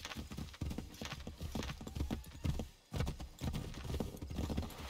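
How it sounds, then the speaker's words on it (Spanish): Horse hooves clip-clop in a steady trotting rhythm in the Assassin's Creed 3 video game, close and clear, with faint game ambience beneath and occasional muffled movement. "El caballo otra vez."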